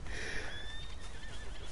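A horse neighs in Red Dead Redemption 2 in a long, wavering whinny that trails off, with faint hoofbeats in the background.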